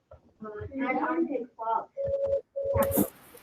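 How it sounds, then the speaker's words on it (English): A phone rings with steady electronic tones in two bursts, following and overlapping close conversation. "My phone's ringing."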